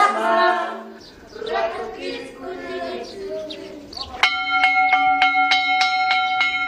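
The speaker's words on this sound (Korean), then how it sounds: "급식 시간을 알리는 종소리가 울리자" After a stretch of voices talking, a school bell at a small mountain school in Bolivia starts ringing for lunch: a loud, close run of rapid metallic strikes with a bright, sustained ring.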